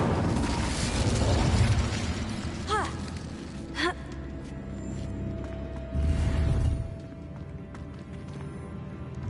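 The Incendio fire spell being cast in Hogwarts Legacy, a whooshing burst of flame among game sound effects with swishing magical tones and rumbling impacts, loud and close.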